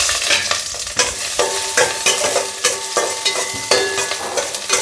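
Chopped ginger frying in oil in a pan, a loud continuous sizzle broken by regular scraping stirs of a spatula, close up with no talking.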